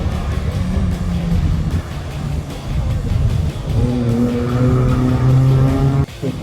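An autocross car crosses the finish with its tires squealing in sustained, wavering tones over a loud engine drone, the squeal strengthening toward the end before cutting off abruptly.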